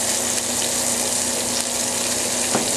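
Onion and garlic sizzle steadily in a hot pan, a dense, continuous frying hiss throughout, with a few faint clinks of stirring and no talk.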